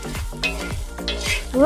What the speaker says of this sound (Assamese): লৰাই দিছোঁ